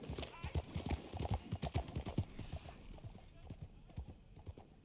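A horse walks with rhythmic clip-clopping hooves, loud and close at first and then thinning out, while a voice speaks over the steps.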